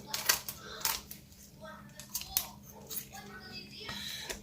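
Kitchen shears snip down the spine of a chicken during spatchcocking, several crisp cuts and crunches in an uneven rhythm, close up, with a voice talking faintly in the background.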